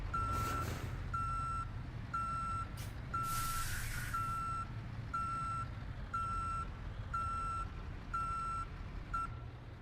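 Steady, evenly spaced truck reversing beeps sound over a low engine rumble in the Euro Truck Simulator driving game, about ten loud beeps with a brief hiss of air partway through.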